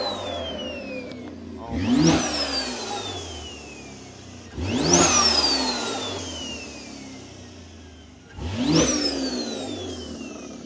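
A BMW X3 M with a T51R mod installed fires up and revs in three loud, close bursts, each rising to a sharp jet-like whine that trails off as the engine settles between pulls.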